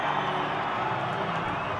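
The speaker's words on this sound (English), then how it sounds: "The crowd enjoying that" A rugby crowd at a Currie Cup match cheers after a kick downfield, a sustained roar of many voices heard from a distance without distinct peaks.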